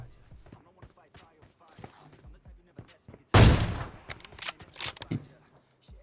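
AWM sniper rifle fire in PUBG Mobile, a single loud sharp blast midway through, with fainter clicks and game effects around it.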